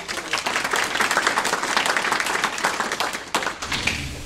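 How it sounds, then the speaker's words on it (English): Audience at a historical society talk applauding, a dense round of many hands clapping at steady strength, thinning out and ending with a few last claps near the close. "So please give him a round of applause."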